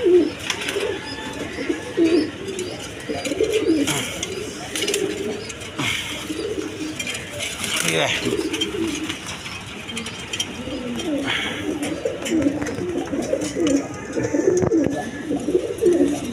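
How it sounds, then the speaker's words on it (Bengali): Pigeons coo repeatedly in a pigeon market, with soft, throaty calls recurring throughout against a steady background clatter and faint murmur. "দেখেন এগুলো দেখার মতো কবুতর।"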